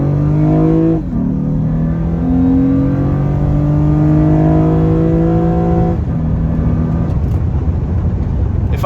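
A 2004–2006 Acura TL with paddle shifters accelerates hard in full-throttle pulls. Its engine drone climbs steadily in pitch, with two brief dips at the gear shifts, and stays loud and close throughout.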